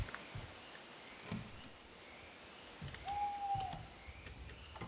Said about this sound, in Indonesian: suara burung hantu bikin gak nyaman banget